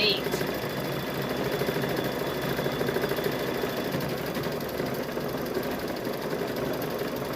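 A sewing machine runs steadily while quilting a fall table runner, a continuous fast mechanical whir that stays even and close throughout, with a person talking over it.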